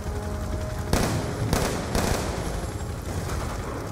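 Gunfire in Black Ops 2 near a sewer entrance: sharp close shots crack out in quick bursts, several sounding within a couple of seconds over a loud, busy background.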